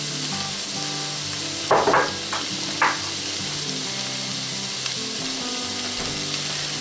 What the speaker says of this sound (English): I'm also going to throw in the smoked kielbasa, and I chop that up. I'm just going to add these in here. We'll get them sauteed.